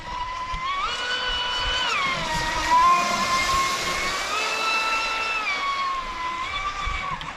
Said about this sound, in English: this boat at half throttle